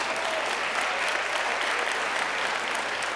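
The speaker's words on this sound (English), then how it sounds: "Okay, you can applaud that." An audience applauds at a speech by Canada's Prime Minister Justin Trudeau: a continuous, even burst of many hands clapping, fairly close and sustained with no voice over it.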